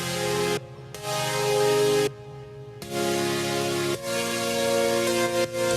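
Sustained synthesizer chords from a preset in a hip-hop beat production session ring out as a series of held, rich tones, cut by a couple of short gaps as the chords change. The sound is loud and steady, with no voices.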